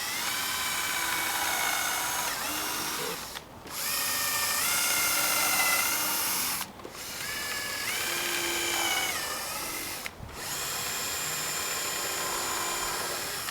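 Power drill countersinking holes in outdoor deck boards, long steady high whining runs close by, briefly stopping three times between passes.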